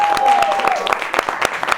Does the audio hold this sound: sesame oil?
no